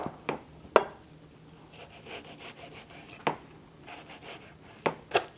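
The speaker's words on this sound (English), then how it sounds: "I think we should start by cooking the onion, which I'm going to chop it" A knife chopping an onion on a board for stuffed grape leaves, a handful of sharp, separate thuds spaced irregularly between quiet slicing and rubbing, close and fairly soft.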